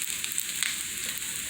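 Canned salmon patties fry in a hot pan after being flipped, giving a steady, close hiss of sizzling oil with small crackles and pops throughout.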